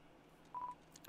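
Phone dialing tones in the video game Undertale, a few short quiet beeps in a quick cluster followed by two more, faint and clean against near silence.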